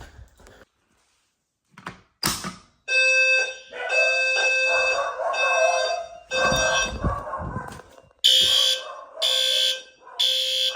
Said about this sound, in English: I'm gonna set the fire alarms off.